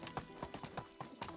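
A horse's hooves clop in a quick, even rhythm in the Medieval Dynasty game, several close, crisp strikes in a short burst with no whinny standing out.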